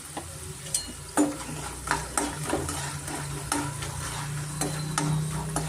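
Vegetable avalakki, flattened rice with potato, salt and turmeric, being stirred in a hot pan: a soft steady sizzle with a series of light spatula scrapes and taps at an irregular pace, close by and fairly quiet.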